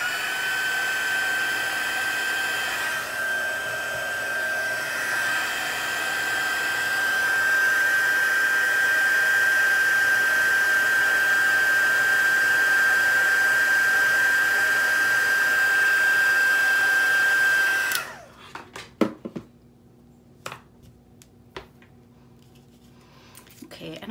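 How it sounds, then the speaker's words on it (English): A heat tool drying a Brusho ink wash gives a loud, steady high whine with airy hiss for about eighteen seconds, then cuts off abruptly, leaving a few clicks and handling noises. "The heat tool."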